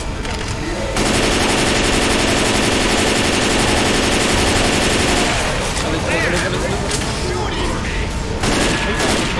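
Loud, continuous machine gun fire in a video game rattles on without pause over several seconds, with voices mixed in.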